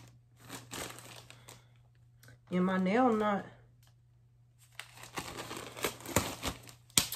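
A plastic shipping mailer bag from an online clothing order, its zipper popped off, is crinkled and torn open by hand in short, close rustling bursts, between and under a woman's speech.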